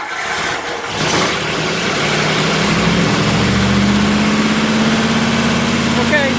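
A GM Y-body car engine from the 1961-1963 era cranks, catches and settles into a steady, loud idle close by, with a brief rev as it starts.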